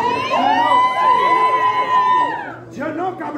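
An audience at a school freestyle rap battle final screams and cheers in long, high, sustained shrieks that overlap, easing into scattered shouts and chatter at the end.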